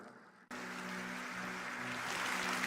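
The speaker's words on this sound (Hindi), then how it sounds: "हमारे मोदी जी की तालियां बजा रहे हैं वहां पे" Sustained applause from a large audience for Prime Minister Modi during a budget speech, starting abruptly and holding a steady, dense clatter, with a low hum running underneath.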